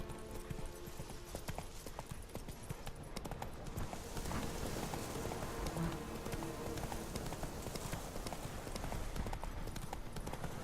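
Horse hooves clip-clop steadily at a riding pace in the video game The Witcher 3: Wild Hunt, a continuous rhythmic clatter over soft ambient background.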